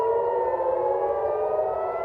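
Civil defense air raid sirens wail across Tel Aviv during an Iranian missile attack, a steady, sustained rising tone that carries on without pause for the whole stretch.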